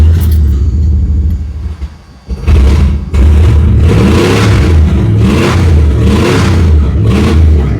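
A misfiring car engine revs loudly and close up, with a deep exhaust rumble. It dips briefly to near stalling, then catches again and revs repeatedly with uneven surges.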